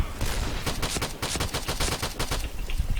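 A gun in a video game fires rapidly and loudly, with dense, continuous bursts of shots packed close together and no talking.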